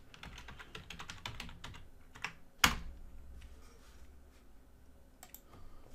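Rapid bursts of key clicks from a computer keyboard as a password is typed, dense irregular tapping at close range, with one sharper loud clack midway and a few scattered keystrokes after.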